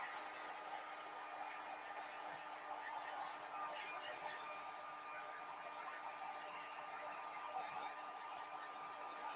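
A hair dryer blows steadily in a woodturning shop, used to heat a workpiece, with an even, whooshing hum that holds at one level throughout.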